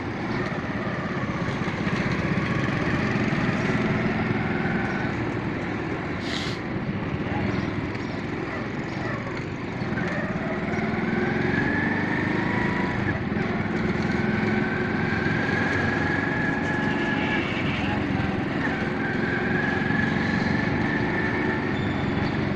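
A motorbike is ridden one-handed through the Taj Bagh neighbourhood, its engine droning steadily and close the whole way, with faint rising whines and street noise around it.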